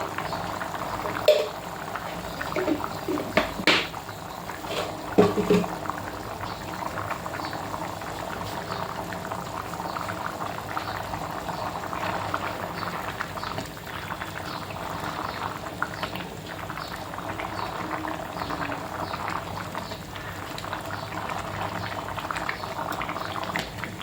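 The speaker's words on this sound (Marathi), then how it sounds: "चांगली उकळी आली आहे." A pot of black chickpea curry boils steadily, with a continuous bubbling and gurgling simmer throughout, plus a few brief clinks and knocks near the start.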